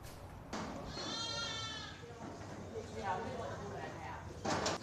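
Pygmy goats bleat at a goat show, with one long wavering bleat and a shorter one later, fairly close, amid crowd noise and people talking.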